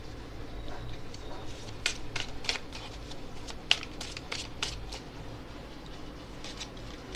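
Tarot cards shuffled and laid out one by one, giving a run of soft papery flicks and slaps at uneven intervals over a low, steady background hum, with a sharper snap near the middle.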